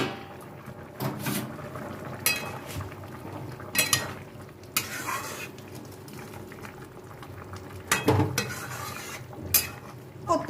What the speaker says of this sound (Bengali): এবারে আমি ঢেকে দিচ্ছি, ঢাকনাটা খুলে দেখছি কতটা হয়েছে।